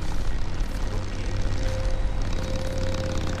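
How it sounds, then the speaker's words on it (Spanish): A motorcycle engine in the Days Gone video game hums as a steady, droning rumble at moderate distance, holding an even level throughout with a faint tonal whine over it. "Se escucha otra moto."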